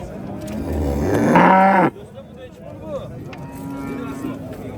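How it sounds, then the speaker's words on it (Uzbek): A cow gives one long, loud moo up close at a cattle market, followed by quieter farmyard background with faint voices. "Mana xolos sigir."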